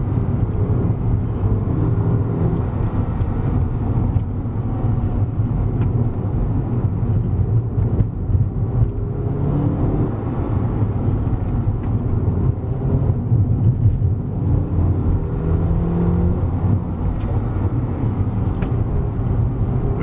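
A modified-suspension 2015 Mercedes A250 drives along, its steady engine drone, tyre roar and road noise filling the cabin continuously without pause.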